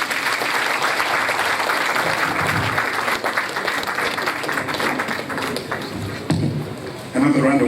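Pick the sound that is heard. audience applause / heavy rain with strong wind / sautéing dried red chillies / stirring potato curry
audience applause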